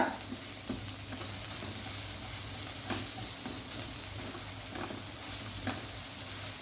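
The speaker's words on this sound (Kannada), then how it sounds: "ಇದು ಫ್ರೈ ಆಗಲಿ. ಗ್ಯಾಸ್ ಹೈ ಫ್ಲೇಮಲ್ಲಿ ಇರಲಿಕ್ಕೆ ಹೋಗಿ ಬೇಗ ಫ್ರೈ ಆಗ್ತದೆ" Pepper, coriander and cumin fry and sizzle in a pan over a high gas flame, a steady dense crackle with occasional stirring scrapes, close and continuous with no talking.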